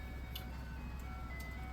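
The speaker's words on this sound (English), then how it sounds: "There's a ice cream truck." A distant ice cream truck plays its melodic jingle faintly, the thin tune drifting over a steady low background hum for under two seconds.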